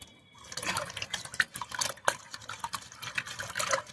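Liquid fertilizer splashes and trickles over potted rose plants on a rooftop garden, a close, irregular run of gurgles and drips with no talking.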